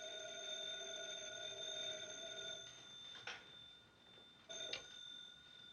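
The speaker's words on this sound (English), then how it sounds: "Those telephones have been ringing all morning." A 1950s office telephone rings with a steady, faint, bell-like tone that cuts off partway through, followed by a couple of soft clicks in a quiet room.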